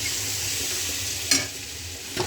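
Chilies fry with turmeric in hot oil, giving a close, continuous sizzle with stirring and two sharp crackling pops.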